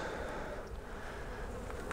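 Honey bees crowd a full honey frame lifted from a spring brood box, giving a steady, close, moderately quiet buzzing hum that holds even and continuous with no voices.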